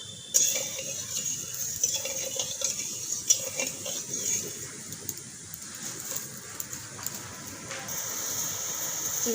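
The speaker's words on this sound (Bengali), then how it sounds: "শিরাটা দেখুন খুব ভালো করে ফুটে গেছে" Sugar syrup made with two bowls of water bubbles at a rolling boil in a pan, a continuous close hiss with soft popping and occasional clinks, no one talking over it.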